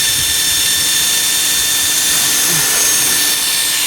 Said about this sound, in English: I want the drill to just go through it nice and gently.